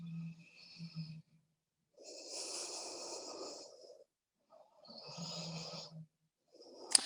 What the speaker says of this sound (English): Take some nice, calm breaths. I'm a little bit out of breath myself after that.